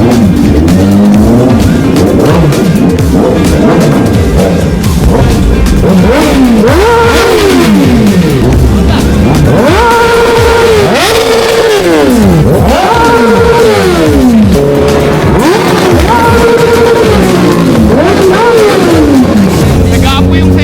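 Loud, close revving of a Kawasaki Ninja motorcycle with an open pipe at a New Year celebration, throttle blipped in repeated sweeping surges with rising and falling pitch, and people talking and shouting over it.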